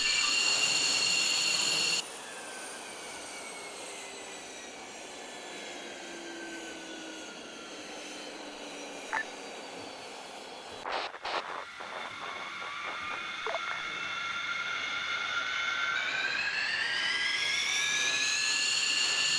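An aircraft engine in the video game ARMA 3 whines steadily during taxiing, its tone holding level and then climbing as power builds, with a few brief clicks partway through.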